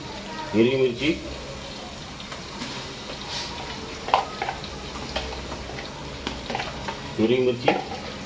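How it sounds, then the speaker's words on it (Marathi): Green chillies frying in a pan for a vegetable pulao, a soft steady sizzle with occasional scraping stirs, and a voice speaking briefly at the start and near the end. "आता आपण टाकणार आहे हिरवी मिरची"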